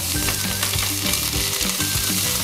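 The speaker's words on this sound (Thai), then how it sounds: "แล้วก็เอาเครื่องแกงแจ่วฮ้อนลงไปผัด" Jaew hon curry paste stir-fried in a hot pan, loud continuous sizzling and spattering with rhythmic scraping strokes of the spatula, close up and with no talk.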